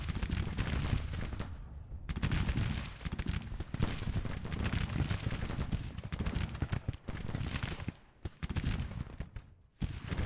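Brigade musket volleys and artillery roll across a Civil War battlefield in Grand Tactician, with dense, continuous crackling gunfire and heavy booms filling the whole stretch at close, loud range, barely pausing.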